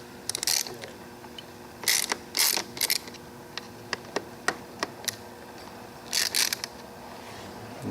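A Kawasaki Ninja ZX6R lever perch is loosened by hand, giving a run of close, sharp ratcheting clicks and tool ticks in separate bursts, with no talk.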